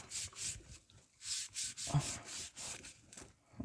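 Something soft brushes a surface clean of rainwater residue, producing rhythmic swishing strokes, roughly a dozen close, soft sweeps in quick succession with short pauses between them.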